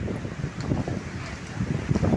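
Strong wind in the Dandiya Bazaar area of Bharuch, with trees tossing and roofs damaged, roars and buffets the microphone in close, uneven gusts. The rumble swells louder toward the end.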